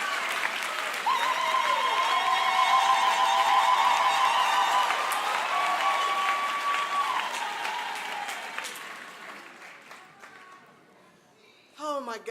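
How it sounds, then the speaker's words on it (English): Loud theater applause with cheering at a memorial at the Paramount Theatre in Seattle, building and holding for several seconds, then thinning and fading as a few whoops rise near the end. "give them another applause"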